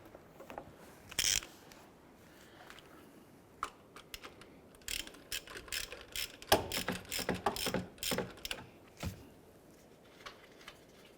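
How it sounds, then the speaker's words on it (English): A 19mm socket on a ratchet loosens the harmonic balancer bolt on a 2001–2005 Honda Civic, giving faint scattered metallic clicks and ratcheting bursts, busiest toward the middle, with quiet gaps between. "Using a 19mm socket, we're going to head and loosen and remove the harmonic balancer bolt."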